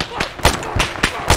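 Enemy shooters fire in Arma 3, four sharp loud gunshot cracks in quick irregular succession over a few seconds, with a voice faintly present.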